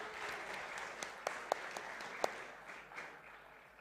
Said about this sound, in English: You need to be clapping more.